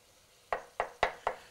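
Minced carrots stirred into frying ground chili meat, five evenly spaced sharp knocks of a utensil against the pan over a faint sizzle, close and clear, no talk.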